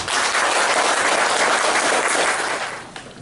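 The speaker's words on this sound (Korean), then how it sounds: "박수로 맞아주십시오" An audience at a lecture on Korea-US relations breaks into dense, steady applause welcoming the speaker, loud and continuous for about three seconds before tapering off.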